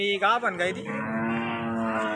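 A local Rahuri-breed cow from Maharashtra moos loudly and close by at the Loni cow market, a long drawn-out low call that wavers at the start and then holds steady.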